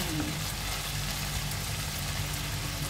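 Green hot pepper hitting a hot frying pan, giving a steady, full sizzle of frying that holds evenly throughout.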